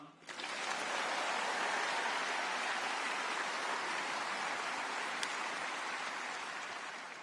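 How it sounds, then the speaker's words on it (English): Sustained applause from a large crowd at a Sydney Jewish community gathering, honouring Anna, wife of New South Wales Premier Chris Minns; a dense, even wash of clapping holds steady throughout with no speech over it. "keep the applause coming for his wonderful wife,"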